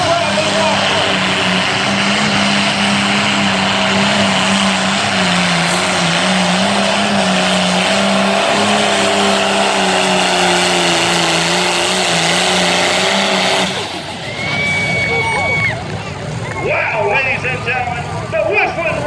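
A light limited turbo tractor pulls at full power at a Libertytown, Maryland pull, with a loud sustained turbo whine and engine roar for about fourteen seconds before it abruptly cuts off. A crowd murmurs and an announcer talks afterward.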